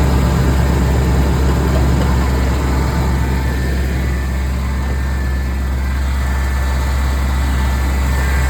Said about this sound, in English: So you hear it go back again, so you know compressor's kicking on.